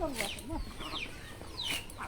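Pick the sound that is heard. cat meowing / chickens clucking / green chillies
chickens clucking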